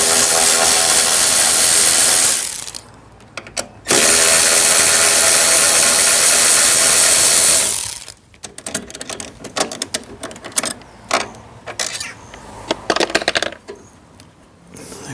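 Two 10mm bolts coming off the fuel tank of a Kawasaki Ninja ZX6: two long, loud bursts of a whirring power tool, then a quieter run of sharp metallic clinks and taps up close.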